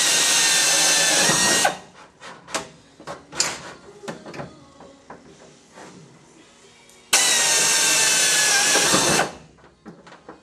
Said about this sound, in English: I'm going to drill this out, and I'm just going to drill it all the way out.